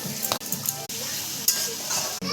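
Ginger and garlic sizzle and fry in hot mustard oil alongside bay leaf, cumin and onion, a steady close crackle with a few brief stirring scrapes and pan knocks.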